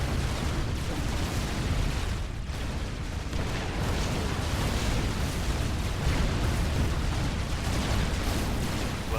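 A commander unit self-destructs in the Supreme Commander 2 video game, a sustained loud rumbling explosion roar with crackling bursts that lasts several seconds.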